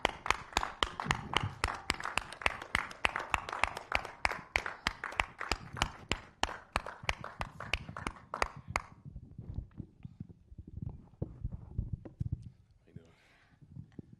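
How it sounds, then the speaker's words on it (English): A film festival audience applauds the filmmakers in a dense run of claps for about nine seconds, then thins to scattered claps and murmuring voices. "Give them a round of applause as they come down for such a wonderful job"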